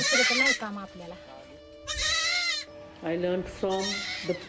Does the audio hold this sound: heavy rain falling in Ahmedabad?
no